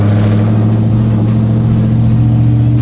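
Sequential burnout truck engine revving steadily under throttle, a loud, continuous low drone with strong harmonic tones holding throughout, close by and with no talk.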